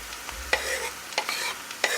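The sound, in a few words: frying carrot and apple in a pan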